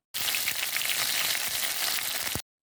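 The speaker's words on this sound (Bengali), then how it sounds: "তারপর একটু নেড়ে চেড়ে ওর মধ্যেই কুচনো পেঁয়াজ, 2-1টা রসুনের কোয়া দিয়ে দেব।" Chopped onion and a clove or two of garlic hit hot oil in a wok already tempered with dried red chilli and five-spice seeds, giving a loud, steady, close sizzle that runs for about two seconds with no talk over it.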